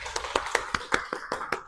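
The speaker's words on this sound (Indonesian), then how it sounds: "Tepuk tangan buat kalian semua." Light, scattered hand claps from a small class, about nine even claps spaced over under two seconds, faint and alone without talk.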